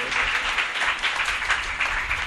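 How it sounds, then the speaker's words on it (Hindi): Audience applause welcoming devotees at a Hindu religious gathering celebrating Krishna's birth festival in Delhi, a dense, steady clapping from a crowd that holds evenly through the short stretch with no voices over it. "भाई तालियां बजा के स्वागत कर दो"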